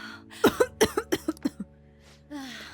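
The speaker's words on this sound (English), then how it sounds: "I can't stop coughing." A video game character coughs in a burst of about seven sharp coughs in quick succession, close and clear, followed by a short breathy vocal sound.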